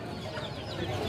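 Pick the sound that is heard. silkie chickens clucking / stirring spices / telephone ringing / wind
silkie chickens clucking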